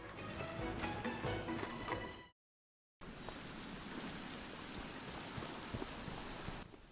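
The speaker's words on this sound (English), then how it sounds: "A rainy night marks our next assignment" Steady rain falling through a night forest in Monster Hunter World, a constant hiss of drops with a brief total dropout partway through before the downpour resumes at the same even level.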